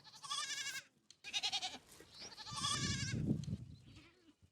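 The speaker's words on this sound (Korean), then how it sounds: "너무 말라버린 염소는 젖을 짜거나 팔 수도 없죠." Several emaciated goats bleat during a drought, long wavering calls overlapping one after another, close and fairly loud, with a low rumble of other noise beneath the later cries.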